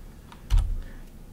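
Brief typing on a computer keyboard as a filename is entered, a few close key clicks with one louder, heavier keystroke in the middle and no voice.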